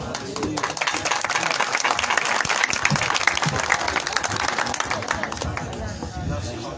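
Sustained congregational applause fills a church gathering after a sermon in Gojra, steady dense clapping from a crowd that holds at full level for several seconds before easing slightly.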